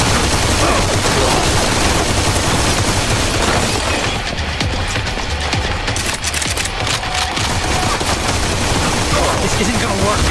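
Heavy gunfire from the mobile video game Modern Combat 4: Zero Hour roars in a dense, continuous barrage of shots and blasts, very loud throughout with a brief dip in the middle.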